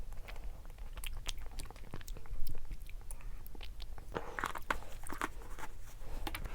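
Korean convenience store snacks are chewed up close, with steady crunchy, moist chewing and biting sounds in quick irregular rhythm and no talking.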